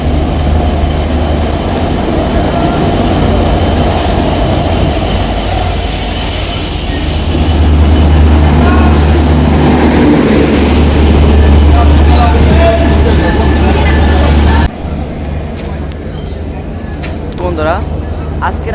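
Madhumati Express intercity train (number 756) pulling in at platform 3, a steady heavy low rumble with rail noise that swells midway and then drops off abruptly, with voices over it.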